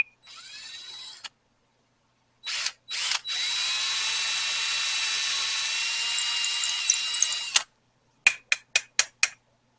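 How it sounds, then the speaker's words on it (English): A power drill whines as it bores into wood: short starts, then a long steady run, followed by a rapid string of brief trigger bursts. "Once you get that drill bit in the hole,"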